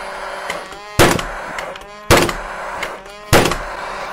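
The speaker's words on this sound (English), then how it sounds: "that is firing in 90mm long nails straight into wood, no trouble at all" A gas-actuated nailer drives 90mm nails into wood, firing three sharp, loud percussive shots at roughly one-second intervals. Each shot is followed by a brief resonant decay over faint background noise.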